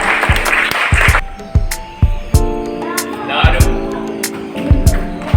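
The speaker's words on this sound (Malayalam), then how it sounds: "കൈയടിച്ച്" Audience applause at an award felicitation ceremony, bursts of clapping rising and falling across the clip, mixed with sharp percussive hits and some background tonal sounds.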